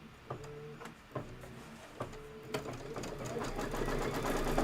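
Embroidery sewing machine stitching a tack-down line through quilt batting and background fabric, a steady mechanical whir with periodic clicks that grows louder toward the end, with faint speech behind it.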